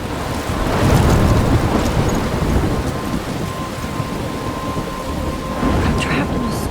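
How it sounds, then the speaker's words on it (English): Heavy rain pours steadily in the Life is Strange video game storm, with thunder rumbling loudly throughout and a broad, close wash of noise that swells and eases. "I'm trapped in a storm?"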